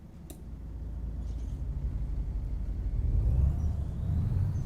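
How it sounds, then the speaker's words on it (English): Volvo F88 truck engine in Euro Truck Simulator 2, an old-school diesel idling with a low, steady rumble that builds slightly louder toward the end; no voices. "it sounds like an old school truck"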